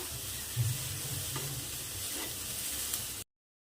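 Onion and finely chopped tomato frying in a pan for misal, with a soft continuous sizzle and a few quiet scraping stirs, fairly faint and cutting off abruptly near the end.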